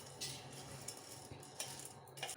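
Spoon stirring three spoonfuls of sour yogurt in a bowl, making light scraping clinks and soft taps that repeat unevenly at close range, with no voices.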